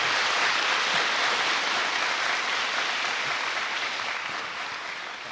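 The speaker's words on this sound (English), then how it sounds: "Let's give them all a big round of applause," A dense, steady wash of audience applause fills a school Veterans Day concert hall, sustained throughout and tapering slightly toward the end, with no voices over it.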